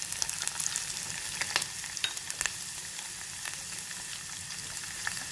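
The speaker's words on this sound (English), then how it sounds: "And as the ghee is hot, we're going to add our dry fruits to this." Dry fruits such as almonds and cashews fry in hot ghee, a steady, quiet crackling sizzle with small pops scattered throughout.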